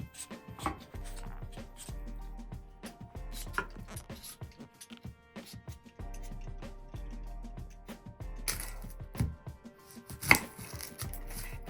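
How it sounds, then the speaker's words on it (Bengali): Repeated knife chops on a cutting board, close and crisp, as vegetables are cut for a meat dish, in uneven bursts with short pauses between runs. "আমি মাংস রান্নার জন্য সবকিছু কাটাকুটি করে নিচ্ছি"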